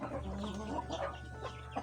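Free-range farm chickens cluck and squawk in a busy, overlapping chorus close by while competing over feed, with steady low background hum throughout.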